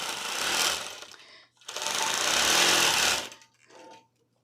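A longarm quilting machine stitches a quilt in two sustained buzzing runs, loud and close, separated by a brief pause, then a short final burst before stopping.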